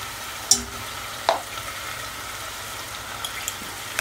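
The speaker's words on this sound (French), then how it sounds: "On peut les frire juste un petit peu comme ça" Fish for a dolma frying lightly in a pan gives a low, steady sizzle, with a couple of sharp utensil clicks and taps against the pan.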